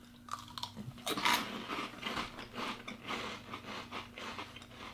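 Close, loud crunching and chewing of crisp pickle-flavoured snacks, a steady run of crackly bites and mastication with one sharp crunch near the start and no talk.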